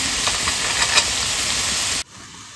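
Boiled chickpeas tipped into a sizzling pan of banana flower curry, giving a loud, steady hiss that cuts off abruptly near the end.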